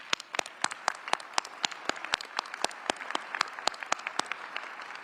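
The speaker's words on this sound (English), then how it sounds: "You all stand again, and let's give them an applause." Sparse, distinct hand claps from a standing audience honoring the Shreveport City Council and Caddo Parish Commission at an officials' announcement, individual claps clearly separated and fairly quiet throughout.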